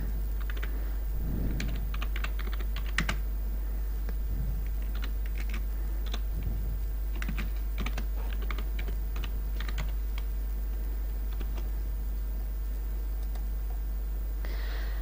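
Rapid, irregular bursts of key clicks as a blog post title is typed on a computer keyboard, close up over a steady low hum with no talking.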